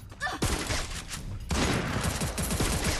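Gunfire from the Free Fire video game arrives as rapid bursts of repeated shots, loud and near, in two main volleys with brief rattling reports.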